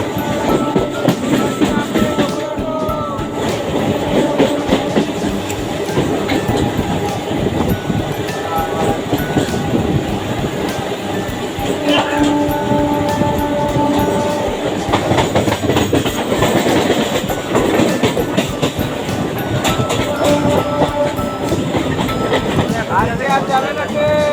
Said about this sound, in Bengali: আবার মনে হচ্ছে ট্রেনটা থামবে, কারণ ট্রেনের গতি কিন্তু ধীরে হয়ে গেছে।